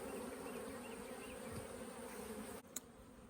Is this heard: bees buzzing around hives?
yes